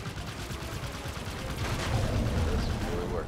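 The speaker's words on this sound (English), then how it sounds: "Oh, we're supposed to shoot the turret." Gunfire aimed at a turret in Halo 5, a dense, continuous rattle of rapid shots that holds steady and swells slightly partway through, with a voice speaking underneath.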